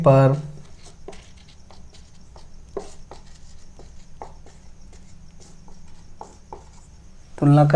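Chalk taps and scrapes in short strokes on a board as maths is written out during a class, a quiet irregular run of ticks and scratches between bits of a man's speech at the start and end.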